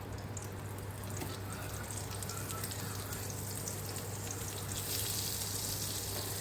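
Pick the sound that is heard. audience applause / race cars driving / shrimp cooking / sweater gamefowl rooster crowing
shrimp cooking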